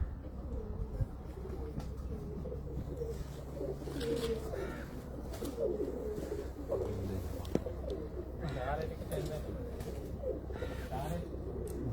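Pigeons coo on a rooftop loft, with soft, repeated low calls close by and someone talking over them.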